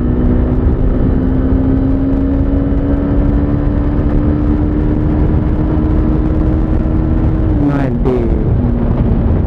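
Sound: Hero Xtreme 160R motorcycle accelerating through gears

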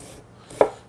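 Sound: knife slicing through vegan lobster filling

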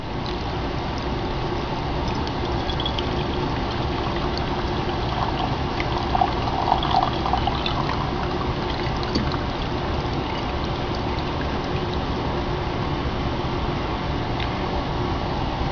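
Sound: solution poured through a coffee filter

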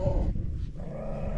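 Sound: dog growling, Central Asian shepherd mix

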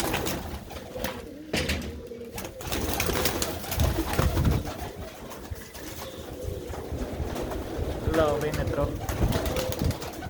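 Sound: pigeons cooing in a net

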